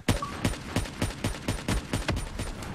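Rapid automatic gunfire in Call of Duty: Black Ops 3 played on Xbox 360, a regular burst of sharp, punchy shots about four per second, loud and continuous with no talk over it.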